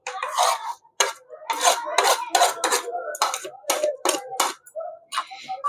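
Close, loud scraping and squelching strokes come in uneven bursts as chicken is mixed by hand in a bowl with ginger, garlic, coriander, green chilli and onion pastes.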